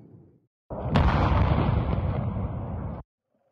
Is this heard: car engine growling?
no